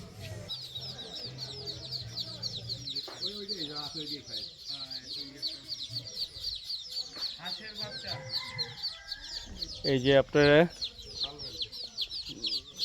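Chickens clucking in a village yard alongside ducks, Muscovy ducks and chicks, repeated nearby clucks and squawks with a louder burst of cackling near the end, while someone speaks briefly over them.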